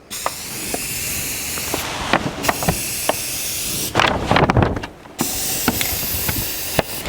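Steady hiss of primer being sprayed onto the roll cage of a 1949 Chevrolet Gasser, a continuous close spray broken by short pauses and a few light clicks and knocks.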